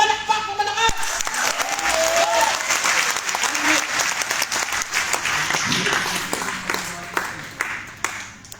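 A church congregation at a global tentmakers conference claps loudly and steadily for the Lord, a dense burst of applause that slowly thins, with voices and music underneath.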